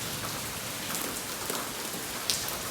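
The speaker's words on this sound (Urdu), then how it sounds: "یہ خوب بارش ہو رہی ہے." Heavy monsoon downpour drumming steadily on surfaces, a dense continuous roar of rain with occasional louder drips, close and loud, with no talking.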